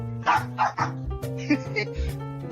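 A dog barks and yips in short bursts close to the microphone, with whimpering between, while someone talks over it.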